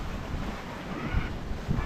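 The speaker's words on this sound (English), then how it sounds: "So the wind finally filled in as predicted." Steady wind rushing over a sailboat at sea, a broad continuous roar with occasional low gusts buffeting the microphone, no voices present.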